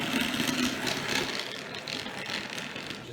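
A Hornby Class 06 model locomotive with an orange cab and wheels runs along its track, producing a steady, close mechanical whirring and clicking of its small motor.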